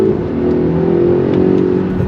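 A 2021 Polestar 1 hybrid with 609 hp pulls hard under acceleration, its steady engine and electric drone rising slightly in pitch over about two seconds, loud and close from inside the car.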